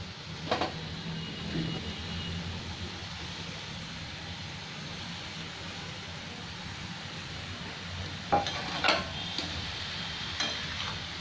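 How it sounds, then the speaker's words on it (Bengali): Paneer, peas and potatoes sauté in a pan with a continuous low sizzle, broken near the end by a couple of louder scraping stirs. "এখানে আমার পনির দিয়ে খুব ভালো করে কষা হয়ে গেছে।"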